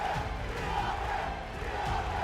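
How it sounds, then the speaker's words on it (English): An arena crowd at a Rocket League esports quarterfinal, rhythmic chanting of a team name rising and falling in a steady repeated pattern, dense and reverberant. "And you can hear the crowd chanting, TRK."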